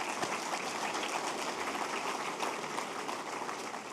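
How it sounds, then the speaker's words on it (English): Audience round of applause at a Fresno State of the City address, a steady dense wash of clapping that holds at even loudness for several seconds with no voices over it. "Please join me and give another round of applause."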